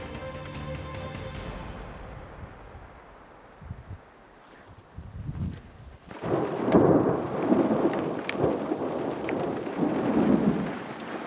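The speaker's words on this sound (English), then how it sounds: "We got a huge thunderstorm coming." Monsoon-season thunderstorm in open New Mexico country: distant thunder rumbling at first, then a heavier roll of thunder with rain and wind rising and surging over several seconds.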